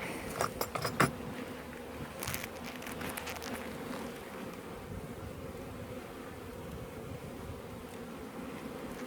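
Honeybees hum steadily inside an open beehive, a dense, continuous buzz close by, with a few brief clicks and rustles near the start and no talking.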